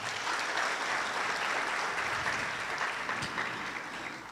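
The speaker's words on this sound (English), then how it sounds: "Please, let's give her another applause." An audience at a symposium on Rwanda, 29 years after the 1994 genocide against the Tutsi, gives sustained applause: many hands clapping evenly in a large room, moderately distant and fairly soft, tapering slightly toward the end.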